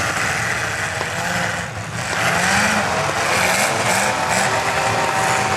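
Race car engines on a racetrack, a steady mid-pitched drone from cars passing at a distance with faint intermittent pops mixed into the continuous roar.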